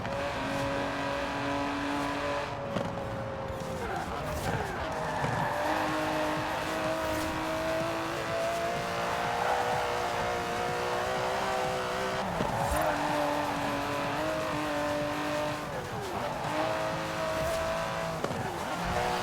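An Aston Martin DB11 driving in Forza Horizon 4, its engine droning steadily with rising and falling revs as gears shift, plus occasional tire noise, loud and continuous throughout.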